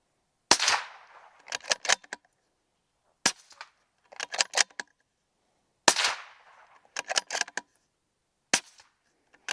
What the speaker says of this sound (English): Same demonstration with 300 blackout, so it's a rifle caliber. This is supersonic, subsonic, supersonic, subsonic,